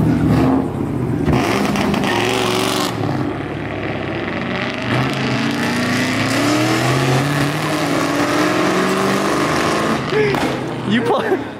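Turbocharged car revving at a Mustang Week burnout contest, loud sustained engine roar with rising and falling pitch sweeps, people talking and shouting over it nearby.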